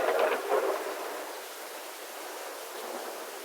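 Thunder following a large lightning flash, a deep rumble that swells at the start and then fades into a long, even wash of hissing noise.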